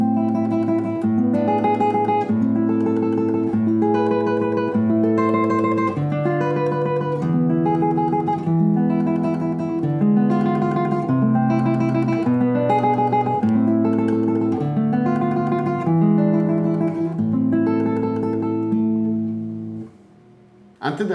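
Classical guitar plays the opening section of Matteo Carcassi's Study No. 2, Op. 60, a steady run of arpeggiated plucked notes over changing bass lines, close and full for about twenty seconds before a brief gap near the end.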